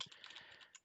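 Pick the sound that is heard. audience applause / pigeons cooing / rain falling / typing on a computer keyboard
typing on a computer keyboard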